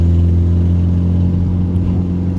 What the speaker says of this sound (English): We've got to figure out what the exhaust leak is